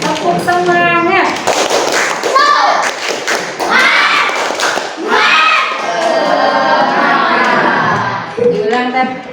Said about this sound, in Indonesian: Makanya kita tepuk semangat dulu ya. Ya, tepuk semangat.